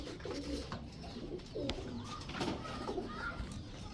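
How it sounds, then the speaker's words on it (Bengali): A fully crested female high-flyer pigeon coos in repeated low, throaty rolls, fairly close, against a steady background hiss. "একদম ফুল ঝোপা মুজোওয়ালা একটা মাদি কবুতর"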